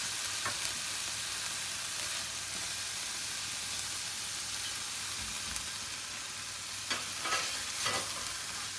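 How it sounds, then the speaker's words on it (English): Spices and green peppercorns are stirred into a simmering Jägersoße hunter sauce, a soft continuous sizzle with a few scraping stirs, clustered near the end. "Give it a stir."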